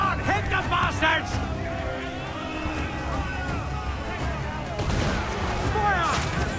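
Ship cannon fire during a naval battle in Assassin's Creed IV: Black Flag, with heavy booming blasts and rumbling over crew voices shouting, plus a loud burst of firing near the end.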